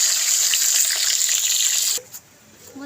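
Fish frying in hot oil, a steady bright sizzle that holds for about two seconds, then cuts off abruptly, leaving faint clinks and quiet kitchen sounds.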